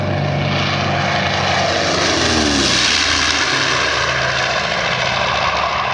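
A Beech propeller airplane flies past at a warbird airshow in Batavia, Ohio, its loud, steady engine drone and prop buzz filling the whole stretch with a slight pitch shift as it passes, no voices.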